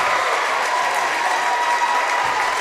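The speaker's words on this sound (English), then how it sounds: "It's a raucous Wayne crowd right in front of us." A raucous Wayne crowd at a region championship basketball game, roaring and applauding loudly and continuously, a dense wash of cheering close by.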